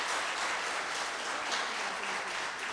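Audience applause for the Lycée Louis-Joseph Janvier team at a televised school quiz match, a steady dense wash of clapping that holds evenly throughout, with no voices over it.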